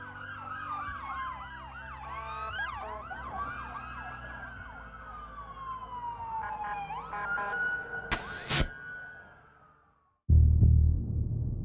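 A fire brigade emergency siren wails from moderately near, its pitch sweeping up and down in repeated cycles and then sliding into a long falling tone, ending with a brief sharp burst and a low rumble.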